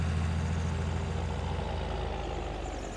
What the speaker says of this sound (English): How about the 1586? I don't think we've used this tractor a lot, have we?